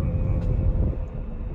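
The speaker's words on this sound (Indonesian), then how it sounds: "karakter suara resonansi mesin 3 silinder ini sangat mirip dengan" A Daihatsu 1000 cc three-cylinder engine drones with a low, steady resonant rumble, close and fairly loud, and no voices are heard.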